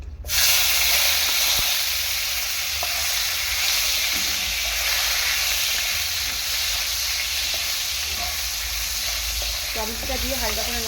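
Chopped tomatoes hit hot oil with whole spices and dried red chilli, giving a loud, steady sizzle and hiss throughout, with occasional stirring clinks and a few faint high tones near the end.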